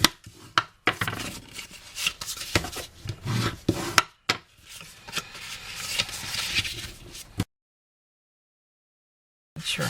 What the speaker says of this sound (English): And I am going to fold and burnish all of my score lines.